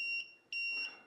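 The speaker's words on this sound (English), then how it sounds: "when the timer runs out, it will give you an alarm" A sublimation heat press timer finishing a coffee mug beeps in two sharp, high electronic tones, each lasting about half a second with a short gap, clear and close in a quiet room.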